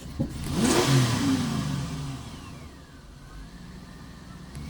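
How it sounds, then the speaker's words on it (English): A 2005 Chevrolet Silverado truck engine, running rough, revs up and holds a loud, uneven drone, then eases back toward a lower idle, close by. "I'm pressing the throttle down here. Guess maybe you heard that."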